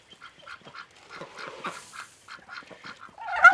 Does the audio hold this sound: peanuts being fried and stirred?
no